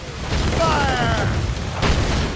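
Warship cannon fire in the naval combat game Assassin's Creed Rogue, heavy booming blasts layered with shouting crew voices, with a second loud burst near the end.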